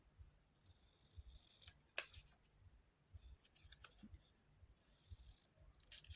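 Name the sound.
scissors cutting paint chip paper tag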